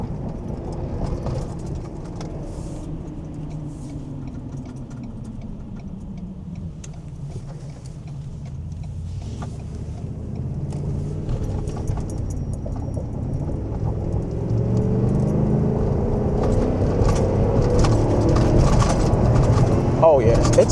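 A Ford 7.3-litre Godzilla V8 pickup truck engine pulls under acceleration, a steady low rumble that swells and grows louder toward the end, with a voice talking over it.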